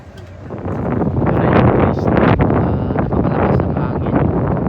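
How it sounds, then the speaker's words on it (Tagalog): Strong wind blasting into the microphone outdoors at a crowded tourist spot, a loud roaring rumble that builds in the first half second and then stays heavy and turbulent throughout. "Napakalakas ang hangin."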